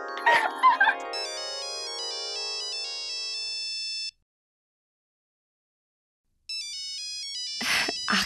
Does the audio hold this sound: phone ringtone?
yes